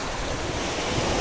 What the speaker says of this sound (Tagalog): Yan po ang buong karagatan.